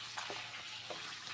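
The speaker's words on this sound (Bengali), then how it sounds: "পাঁপড় ভাজা ভেজে নিচ্ছি" Papad (poppadom) frying in hot oil in a home kitchen, a steady faint sizzle and crackle with a few soft bubbling bursts, no voices.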